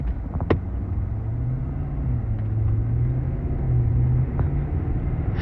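A truck engine rumbles steadily and loudly while pulling hard, its droning note holding low and even across the run, with no voices over it.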